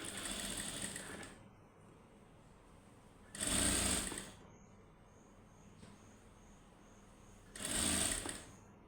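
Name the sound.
sewing machine stitching folded fabric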